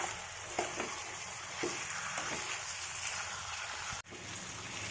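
Potatoes frying in oil for a home-cooked chicken biryani, a steady soft sizzle with occasional stirring clicks, close by and uninterrupted by talk, with a brief dip near the end.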